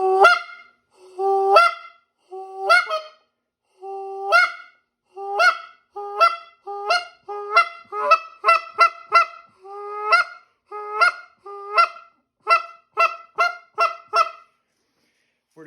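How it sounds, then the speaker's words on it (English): Series of sharp, close goose honks and short clucks blown on a goose flute call, starting in spaced pairs and quickening into rapid runs, loud and alone with no talk. "For those simple clucks, like I was doing there at the end, it's going to kind of be like the honk"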